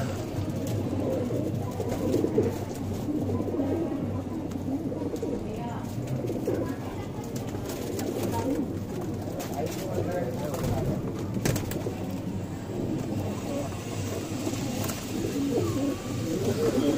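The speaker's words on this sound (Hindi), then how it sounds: "इसमें मद्रासी, पंजाबी और गोले हैं सारे" Madrasi and Punjabi pigeons in a loft keep up a dense, continuous murmur of low cooing throughout, with wing flutters and shuffling, while someone talks over them at times.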